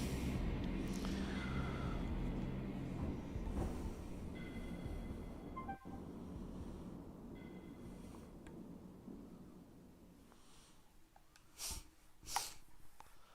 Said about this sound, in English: This Max Payne dude jumped for a train and he totally missed.